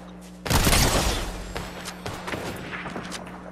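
A sniper rifle in Fortnite fires a single loud blast that booms and rolls away, followed by quieter scattered game noises and faint thuds, with no talk over it.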